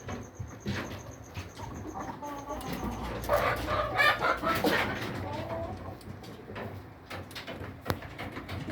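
Pet chickens clucking and calling inside their coop on a Filipino backyard farm, a busy mix of near and far clucks and squawks with a faint crow-like call, under a continuous farmyard background.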